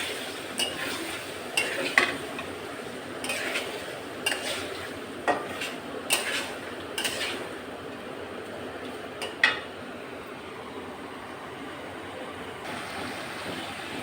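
Chicken meat and giblets, with head, skin, legs, neck and wings, stir-fried in oil in a pot for a Mughal-style latpati recipe; scattered metallic scrapes and clinks of a utensil stirring the pot over a steady frying hiss, with no talk.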